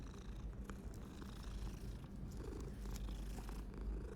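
A cat purrs steadily in a Hogwarts-style Slytherin dungeon common room of a video game, a low continuous rumble heard up close without any talk over it.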